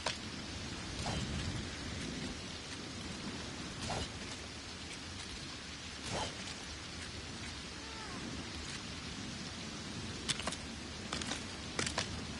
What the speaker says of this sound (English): Not gonna lie, this rain is annoying me.